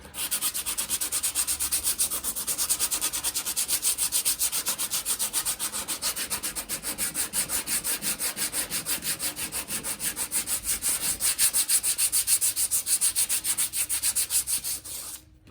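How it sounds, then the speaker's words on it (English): Continuous abrasive sanding of a 1990 Mustang GT body panel with 120-grit paper, a steady scratchy rubbing that keeps up close and loud with no pauses and no voices. "Still sanding and sanding."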